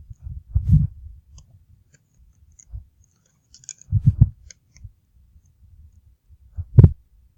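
Calculator keys pressed in a few short, separate bursts of clicks and taps, close and fairly loud, with quiet gaps between presses and no talking.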